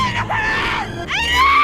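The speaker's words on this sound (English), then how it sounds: "I just have to point out the Oscar-worthy screams given from Aiden's mum through this whole scene" A woman in a Christmas dragon movie screams loudly and at length, two drawn-out, wavering shrieks that rise and fall with a brief dip between them.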